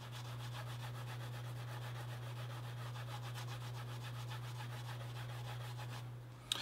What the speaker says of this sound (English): So we're going to burnish down and around and down and around.